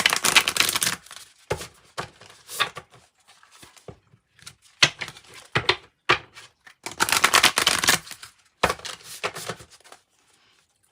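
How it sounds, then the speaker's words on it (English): Tarot cards being shuffled by hand in quick, crisp riffling bursts, close and fairly loud, separated by short pauses with faint handling noises in between. "Let me just give it a little shuffle."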